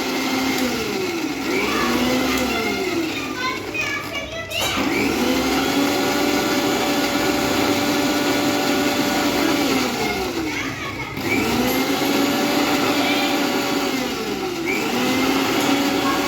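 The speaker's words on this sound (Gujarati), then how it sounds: "મિક્સરમાં ક્રશ કરે છે" A mixer grinder crushing pani puri water ingredients whirs loudly and continuously, its motor pitch rising and dropping as it cycles, while children's voices chatter in the background.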